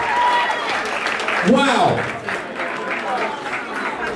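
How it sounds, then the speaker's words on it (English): A crowd applauds after a fight between two girls, a broad wash of clapping that swells and fades while a voice briefly exclaims near the middle. "But a big round of applause."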